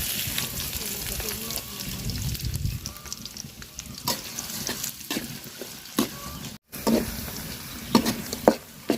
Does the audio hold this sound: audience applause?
no